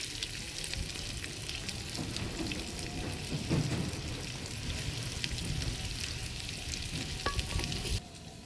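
Potatoes fry in a pan on a wood-fired stove while being stirred, a steady close sizzle with scraping stir sounds throughout, ending abruptly near the end.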